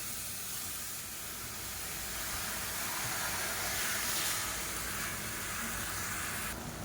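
Chopped tomatoes hiss and sizzle in a hot kadai, a steady, loud, broadband frying noise that holds evenly for several seconds with no talking.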